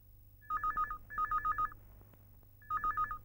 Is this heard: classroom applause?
no